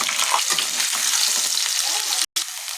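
Potatoes drop into hot oil already seasoned with bay leaf, dried chili and five-spice, setting off a loud, dense sizzle that runs without a break apart from one very short cut.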